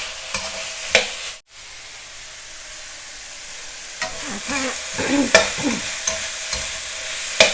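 Long beans with red and green chilies and minced pork are stir-fried in a sizzling pan, the spatula scraping and tossing in repeated strokes over a steady loud hiss, close up.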